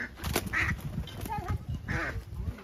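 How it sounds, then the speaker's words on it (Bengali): Ducks quacking on a farm as ducks and chickens are being caught, short nasal quacks in a few bursts mixed with nearby voices talking over them. "মুরগি আর হাঁস ধরা চলছে"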